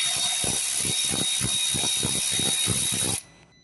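A ratchet undoing E10 bolts on a bracket of a Mercedes E-Class 2.1 CDi clicks in a fast, even rhythm of close pawl ticks, then stops abruptly, leaving a faint hiss.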